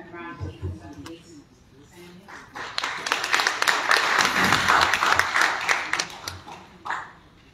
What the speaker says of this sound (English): give Daniel a round of applause